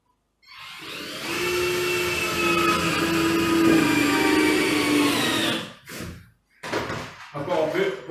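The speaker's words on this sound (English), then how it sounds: "just do the last few screws to get them in" Power tool driving screws into a floor, a steady whirring drone for about five seconds, then short bursts, close and loud with handling noise between.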